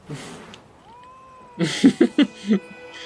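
A cat in The Witcher 3 lets out a short series of loud, close meows, a drawn-out call followed by several quick clipped mews.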